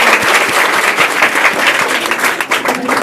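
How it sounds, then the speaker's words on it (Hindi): Students at a motivational gathering for matric board exam candidates break into sustained, dense applause, many hands clapping loudly and evenly throughout with no speech over it. "एक जोरदार ताली हो जाए।"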